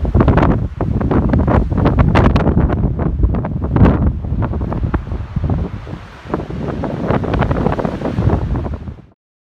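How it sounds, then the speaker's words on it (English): Strong gusting wind buffets the microphone along a mountain trail on the Pacific Crest Trail heading into the Sierras, a loud continuous roar with repeated harsh blasts, no voices. "We'll see if we don't get blown off our feet again by the wind."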